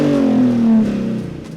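A sports car with its exhaust back box deleted revs briefly, a loud, close, throaty tone that holds steady and then falls away as the revs drop.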